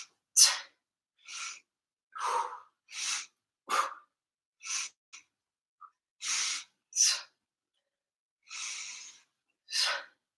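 Heavy rhythmic breathing during a squat press workout, with a dozen close, forceful inhales and exhales in bursts separated by short silences.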